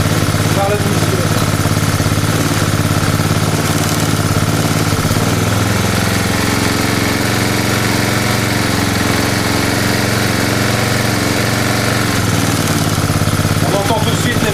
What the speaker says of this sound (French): On entend tout de suite les variations du moteur.